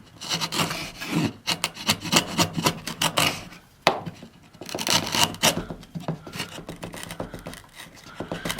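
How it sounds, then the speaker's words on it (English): A freshly sharpened hand chisel paring across the grain of yellow cedar, giving repeated scraping, rasping strokes in an uneven rhythm, close and fairly loud, with no talking. "This is a cross grain on yellow cedar."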